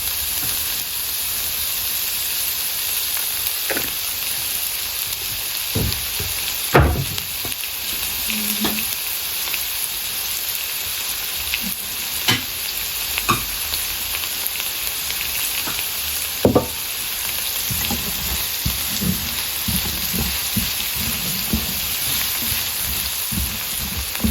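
Onions fry in a pan of oil with a little extra oil added, giving a loud, steady crackling sizzle that runs unbroken throughout, scattered with occasional sharper pops and clicks.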